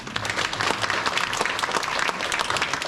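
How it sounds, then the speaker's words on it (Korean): An audience at a national assembly policy forum on speeding up reconstruction in Nowon applauds steadily for about three seconds, dense clapping from a room full of people with no talk over it. "다시 한번 박수 한번 부탁드리겠습니다"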